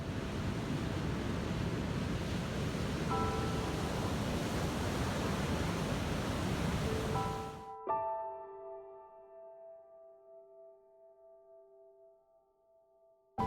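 Ocean surf rolls and washes onto a shore as a loud, continuous roar, then cuts abruptly to quiet where a faint ringing tone lingers.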